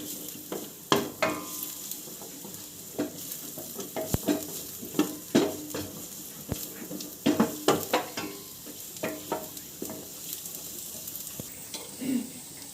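Chopped garlic sizzles in a hot pan for a Malayalam-style hot and spicy chicken soup, cooking until browned, with a steady frying hiss broken by repeated close clicks and scrapes of a spoon stirring.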